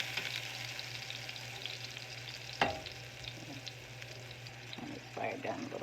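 A Beyond Burger plant-based patty frying and lightly smoking in a pan, a quiet steady sizzle with a sharp clatter midway and some utensil scraping near the end.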